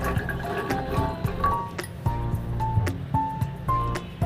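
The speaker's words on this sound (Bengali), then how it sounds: "দেবো আমি পরিমাপ মতো জল।" Water poured into a pressure cooker over soaked chickpeas, a steady liquid splashing and trickling with small drips and clinks, close and moderately loud, without speech.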